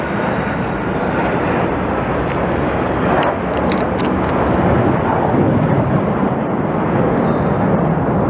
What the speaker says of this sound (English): definitely noticeably more planes, like military planes, flying around